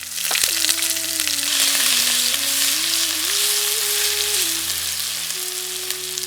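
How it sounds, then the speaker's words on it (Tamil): Steady, loud sizzling of ginger-garlic and spices frying in hot oil in a pan, a continuous crackle with a faint tonal hum running underneath throughout. "கறியை வறுக்கிறதுக்காக சட்டியில கொஞ்சம் எண்ணெயை ஊற்றிக்கலாம்."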